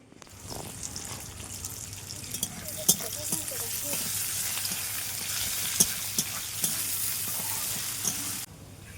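Onions sizzling in hot oil with bay leaf, dried chillies, cumin and whole garam masala, a steady close frying hiss with a few sharp pops and light stirring clicks.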